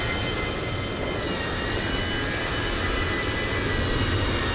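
In Microsoft Flight Simulator 2020 at Munich, a jet airliner taxis somewhere nearby, a steady loud whining turbine roar with a high tonal whistle that holds evenly throughout, with no talk.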